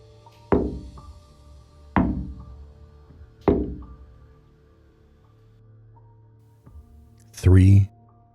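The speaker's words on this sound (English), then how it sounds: "slow, deliberate knocks from inside the mirror. I turned slowly." Three slow, deliberate knocks sound from inside a mirror, each a single resonant thud spaced about a second and a half apart, followed by a short loud vocal burst.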